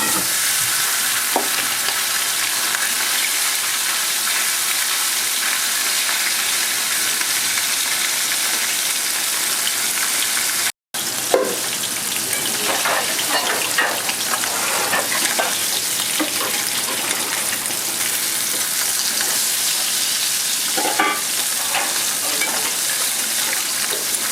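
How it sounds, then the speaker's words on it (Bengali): Sand goby pieces frying crisp in hot mustard oil, a loud continuous close sizzle with bursts of crackling and stirring, briefly cut off once midway. "আমার তেল গরম হয়ে গেছে আমি অল্প অল্প করে ভেজে নেবো"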